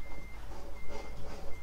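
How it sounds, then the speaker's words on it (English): Repeated electronic reversing beeps from a lorry in Euro Truck Simulator 2, evenly spaced high tones sounding over the deep idle rumble of the truck engine. "Oh, it literally feels like I'm reversing a bloody lorry."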